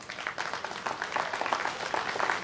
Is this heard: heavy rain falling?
no